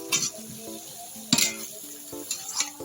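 Taro leaves are fried and stirred in a pot as an offering for Govinda, with a soft sizzle underneath and several sharp metal clinks and scrapes of a utensil against the pan.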